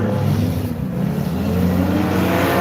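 Race car engine roaring steadily at close range as the leader tears down the front stretch into turn 2 on the final lap, a continuous loud drone with sustained harmonic tone and no pauses.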